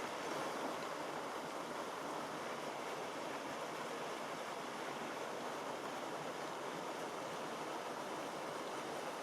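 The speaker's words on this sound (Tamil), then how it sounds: "அந்த தண்ணி பாயிற சத்தம்" Steady rushing water from a waterfall in the Chinese Garden at Jurong Lake Gardens, Singapore, pours continuously, a broad even hiss heard from nearby, unchanging in loudness and with no voices.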